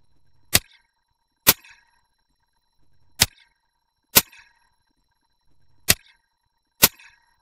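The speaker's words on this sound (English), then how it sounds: "The gun was much louder, and it had kind of a sound to it" Six sharp shots from an FX Panthera Hunter Compact air rifle, each a crisp loud crack with a short metallic tail, spaced unevenly about a second apart against near silence.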